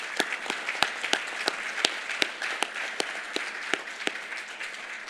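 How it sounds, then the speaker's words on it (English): Conference audience claps for diaspora delegates from Korea and around the world, with sharp individual claps standing out over a lighter bed of applause, irregular and sustained, fairly close with no talking. "Let us give you a round of applause."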